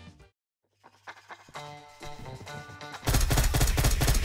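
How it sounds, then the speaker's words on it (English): Grenades and gunfire in an Unturned raid erupt after a brief quiet: scattered shots and clatter build up, then a loud, dense explosive roar takes over near the end. "they are chucking grenades at us"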